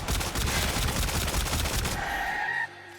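Rapid automatic fire from the Phenmor rifle in Warframe, a dense run of loud shots for about two seconds, then a clear rising tonal chime as the headshot cue with no one speaking.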